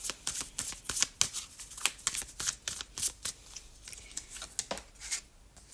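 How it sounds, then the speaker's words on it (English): Tarot cards shuffled by hand in a quiet room, a rapid run of crisp riffling flicks and soft slaps repeating steadily for several seconds, close and clear with no talking. "I'm just going to shuffle the cards and see what we have"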